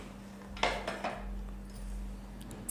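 A spoon clinks softly against a bowl while condensed milk is stirred into eggless chocolate mousse, a few light taps and scrapes close by over a steady low hum.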